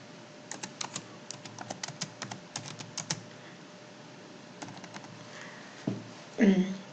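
Quick bursts of keystrokes on a computer keyboard, clicking in irregular runs at close range, then pausing before a few more taps and a brief rustle at the end.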